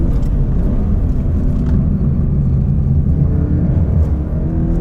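A Toyota GT86 being driven up the Genting hill climb while the driver double-clutches, its engine a steady, loud, low droning rumble inside the cabin with no talking.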